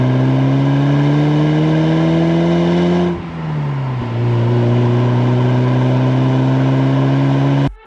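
A 1987 Porsche 944S with a naturally aspirated 2.5-liter inline-4 engine in Need for Speed Porsche Unleashed, loud, steady engine drone that climbs, dips briefly at a gear change, then climbs again before cutting off.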